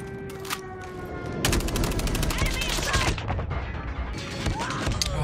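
Assault rifle fire in a ranked shooter video game with the AK117, bursts of rapid shots and impacts coming close and loud, with game voice callouts mixed in.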